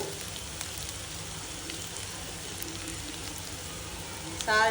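Vegetables fry in a pan with a steady, soft crackling sizzle that runs evenly throughout, quiet and close.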